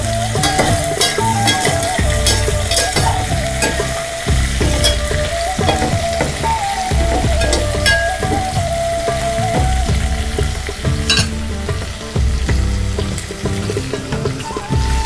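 Cashews sizzle loudly in hot fat in a pan for pulao, with a spoon scraping and stirring through them in steady, repeated strokes over a continuous close frying hiss.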